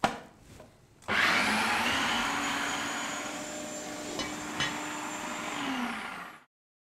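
A food processor whizzes garlic, olive oil and lemon juice, whirring loudly and steadily for about five seconds after a short start, with a couple of brief knocks before it spins down and stops.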